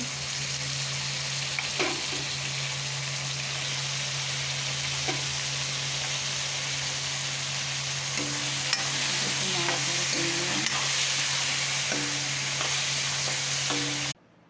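Jackfruit is stirred and fried in a pan with shrimp, giving a constant sizzle with a low hum and intermittent scraping and clattering of the spatula, ending abruptly.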